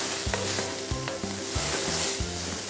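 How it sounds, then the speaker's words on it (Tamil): Cashews and onions sautéing in hot oil for mutton pepper masala, a loud steady sizzle with spatula scrapes and clicks against the pan at an uneven stirring rhythm. "வெங்காயம் நல்லா வதங்கின பிறகு முந்திரி பருப்பு போட்டு நல்லா வதக்கிக்கோங்க."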